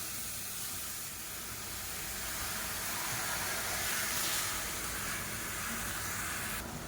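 Chopped, deseeded tomatoes hitting a hot kadai, giving a steady, close sizzling hiss that holds evenly and swells slightly midway, with no talking.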